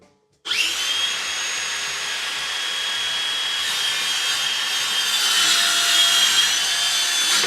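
A saw cuts through cedar boards for a raised garden bed, starting abruptly after a short silence and continuing as a loud, steady, close rasping drone.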